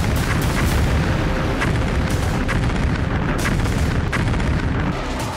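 Artillery shelling and explosions from the war in Ukraine: a dense run of loud booms and sharp blasts, some close and some more distant, following one another in quick succession.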